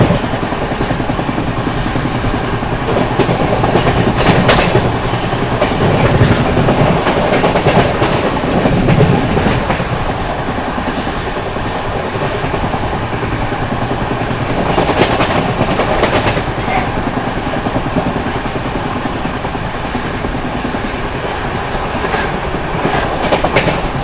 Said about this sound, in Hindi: गाड़ी बहुत बढ़िया भाग रही है अपनी विभूति एक्सप्रेस